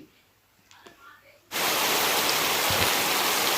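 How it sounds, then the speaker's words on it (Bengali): Heavy rain bursts in abruptly after a quiet start with faint sounds, becoming a loud, steady, dense roar of downpour that fills the rest of the moment. "বাবা কি জোরে বৃষ্টি হচ্ছে"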